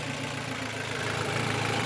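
A Ford Focus engine with a bad alternator idles steadily, a close, even mid-pitched hum with a faint rhythmic pulse and no one speaking.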